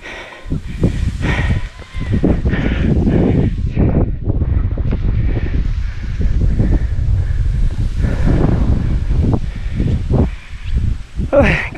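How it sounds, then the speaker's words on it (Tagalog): Strong wind roars and buffets the microphone continuously during a bike ride by the sea on the Taal Lake loop, with people talking over it and a rushing, surf-like background. "Lakas ng hangin."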